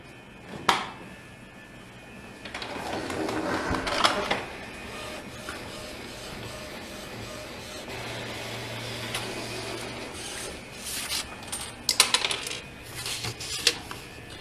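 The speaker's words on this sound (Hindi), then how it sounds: "अगर हम लोग उसको प्रिंट कर रहे हैं" An Epson printer loaded with tattoo stencil ink printing a company logo, with mechanical clicks, carriage whirring and feed clunks, sharper clatter near the end, with no talking.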